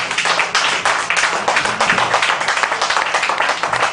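An audience at a comedy benefit show claps loudly and continuously, a thick burst of many hands with a few sharper peaks throughout.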